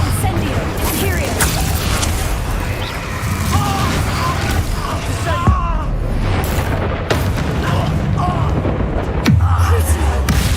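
Spell blasts in Hogwarts Legacy burst out as repeated booms and thuds in a busy combat mix, with a voice talking over the impacts.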